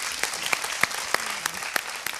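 A studio audience on a televised singing competition applauds, a moderately faint patter of claps with several sharper individual claps standing out, lasting a couple of seconds.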